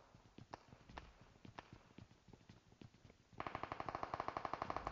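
Gunfire in PUBG Metro, a run of sharp, evenly spaced shots close by, first looser single cracks and then a faster, louder steady burst toward the end.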